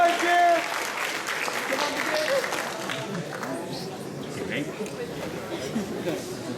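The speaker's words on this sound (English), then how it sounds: "Let's give her a warm round of applause." A school hall of students and staff at a leavers' assembly applauds warmly for a teacher, with a broad, sustained patter of clapping and chatter and a few voices mixed in.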